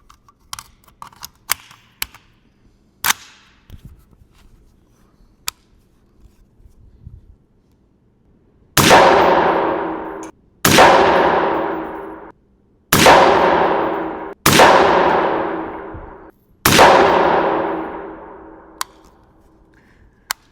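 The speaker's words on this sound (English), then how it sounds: "we're going to take a couple shots here and I'm going to show you guys a little bit about the recoil impulse of this rifle" An MK12 Mod0 rifle fires five loud, close 5.56 shots at uneven intervals, each a sharp crack with a ringing tail. Light handling clicks and rattles come before the shots.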